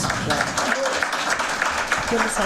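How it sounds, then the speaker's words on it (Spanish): An audience at a forum on disability and functional diversity applauds the sign language interpreters, a steady round of clapping with voices talking over it. "les pido un aplauso para ellas"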